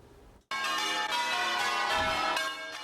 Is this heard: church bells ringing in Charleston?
yes